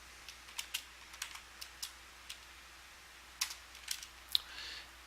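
Quiet typing on a computer keyboard under Windows 7: scattered, irregular light key clicks in small bursts, with pauses between them, over a faint steady background hum and no talk.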